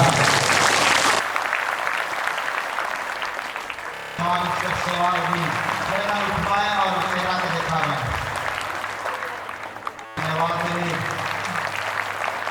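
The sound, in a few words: congregation applauding loudly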